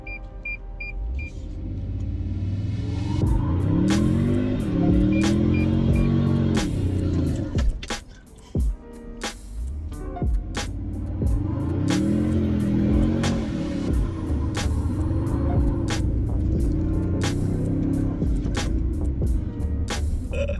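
A Toyota Tundra pickup truck revs hard and spins its tires in repeated loud bursts of engine roar, with a brief lull midway before the revving picks up again.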